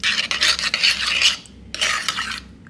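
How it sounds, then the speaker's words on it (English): A small spoon stirs a sweetened mixture with agave in a small container, giving two bursts of quick, close scraping and clinking strokes separated by a short pause. "I'm gonna use this small spoon and just mix that up."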